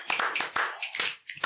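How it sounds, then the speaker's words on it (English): Hand clapping, heard as a quick run of several sharp, dry claps at close range, evenly spaced, with nothing else around them. "Single hand clap."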